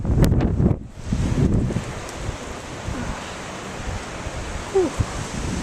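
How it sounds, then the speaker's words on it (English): Strong wind gusts roar across a house's backyard, buffeting the microphone hard at first and then settling into a steady rushing hiss, with a few brief louder flutters. "Jeez, man, it's windy."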